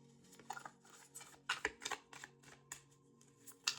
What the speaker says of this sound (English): These cards are really big. They're hard to shuffle.